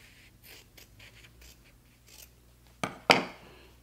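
Scissors cut quilt fabric along a diagonal line, with soft rustling handling first and then two sharp, close snips near the end.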